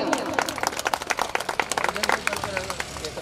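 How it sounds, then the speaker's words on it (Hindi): A crowd at a local competition event claps for an honoured guest, with sharp, uneven handclaps close by and voices mixed in underneath. "इनके लिए जोरदार तालियां।"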